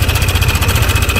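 A small engine runs with a rapid, steady throbbing chug, loud and close, over a brief stretch.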